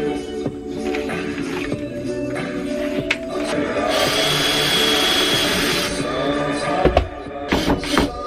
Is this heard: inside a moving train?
no